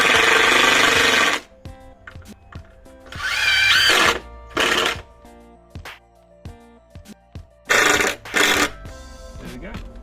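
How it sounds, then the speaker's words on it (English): Cordless drill driving screws into deck boards, with loud whirring bursts of a few seconds each separated by quieter gaps of clicks and handling noise, close by. "Grab the drill, screw them in."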